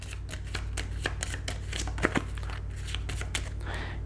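Quick riffling bursts of cards being shuffled, crisp clicking and fluttering over a steady low hum, close up, with a couple of sharper taps in the middle.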